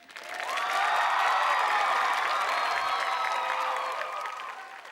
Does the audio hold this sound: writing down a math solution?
no